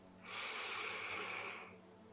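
A single deep, slow inhale through the nose during a home back exercise, a soft, airy rush lasting about a second and a half, close to the microphone and quiet, with no talking.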